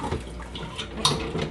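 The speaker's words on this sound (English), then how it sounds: "the juice is pouring out of the bottom." Tomato juice running and splashing from the bottom of a container as fresh tomatoes are mashed by hand for homemade juice, a steady wet trickle with a few squelchy sloshes up close.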